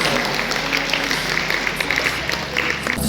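Students clap together at a school farewell gathering in a hall, a dense, steady applause that fills the room throughout, with a crowd murmur beneath it.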